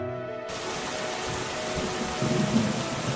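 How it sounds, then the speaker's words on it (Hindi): Heavy rain pouring down steadily in a village, a dense hiss of drops with a low rumble of thunder swelling toward the end, loud and close with no voices. "कुछ दिनों बाद बहुत तेज बारिश होने लगी"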